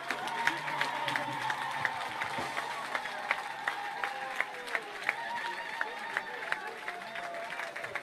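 A church congregation applauds and cheers in praise of Jesus, steady crowd clapping with sharp claps recurring through the whole stretch, a bright dense roar with voices mixed in.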